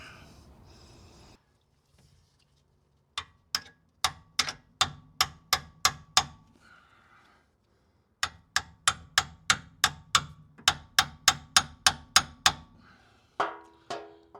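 A ratchet wrench tightens a steering box bolt on a 1981 Corvette with a recirculating ball steering box, giving two close runs of sharp, evenly spaced metallic clicks separated by a pause.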